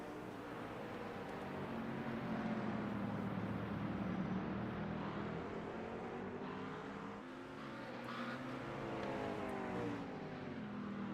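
A race car on pit road at Okayama circuit, its engine droning steadily with gentle rises and falls in pitch, continuous and fairly close with no talk.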